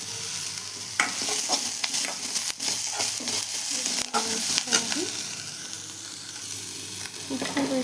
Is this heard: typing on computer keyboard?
no